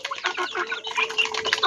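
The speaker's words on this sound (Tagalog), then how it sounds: "Tandang na." A rooster clucks in a quick, close run of short, throaty calls, loud and alone with no voices.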